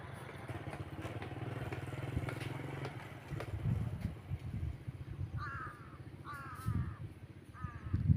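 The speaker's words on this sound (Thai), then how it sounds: "นกเยอะเลยครับ อีกาเสียงร้องอีกา" Several crows caw in short repeated bursts over a low rumbling engine on a cold morning, the calls coming in the second half, fairly near, as the birds fly toward their roost.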